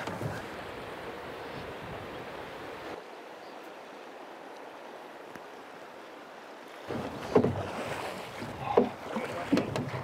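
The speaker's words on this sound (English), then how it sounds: "and Ladin had to row all the way across the river so we could land it in a safe place." Quiet water sounds with soft sloshing, then a busier stretch of splashing and knocking near the end as oars work a small boat across Montana's Madison River.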